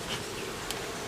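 Honey bees buzzing during a colony removal in Danville, Virginia, a dense close swarm drone filling the whole moment with no talk.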